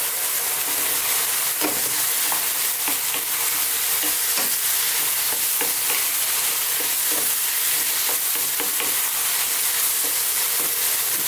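Chili, turmeric, cumin and coriander powders get stirred into lamb curry frying in a pan, giving a steady, close sizzle with continuous scraping stir strokes and no voices.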